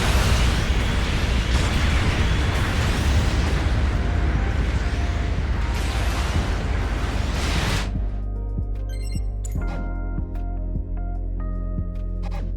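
A mobile suit is destroyed in the video game Gundam Battle Operation 2 with a loud, sustained roaring explosion lasting several seconds. It cuts off abruptly into quieter game tones and a few faint pops.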